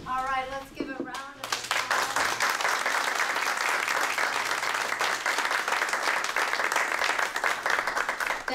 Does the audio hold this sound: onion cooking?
no